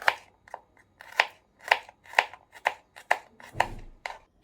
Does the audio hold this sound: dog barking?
no